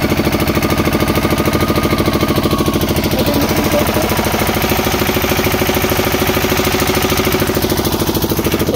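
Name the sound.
shallow irrigation water pump engine running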